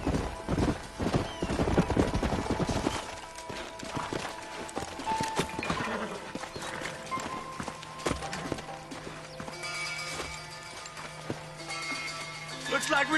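Horses in the video game Red Dead Redemption clip-clop with quick hoof beats that slow and fade, followed by a whinny and background music, while gruff voices speak over the scene.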